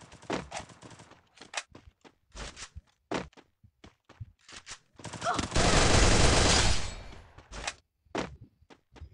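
Bursts of gunfire from the video game Garena Free Fire, with short single shots scattered throughout and a sustained rapid volley in the middle, mixed with footsteps and thuds.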